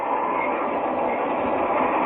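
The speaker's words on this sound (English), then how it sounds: "Say, this train has everything, McGee." A passenger train rolls along in a steady, unbroken rumble as a radio drama sound effect, the wheels and carriage noise holding at an even, moderately loud level throughout.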